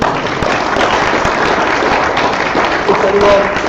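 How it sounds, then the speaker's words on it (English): Dense, sustained applause from a crowd at a strength-training Q&A event, steady and loud throughout with scattered claps and a few voices mixed in. "Give him a round of applause."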